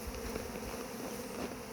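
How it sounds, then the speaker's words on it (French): Honey bees buzzing around a crowded hive entrance, a steady dense hum of many insects close by, fairly quiet and unbroken. "on va passer près des abeilles"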